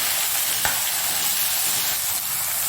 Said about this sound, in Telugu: ఇప్పుడు ఏం చేస్తామంటే ఇందులో టమాటా వేసుకుందాము. ఒకసారిగా బాగా కలిపేసుకుందాము.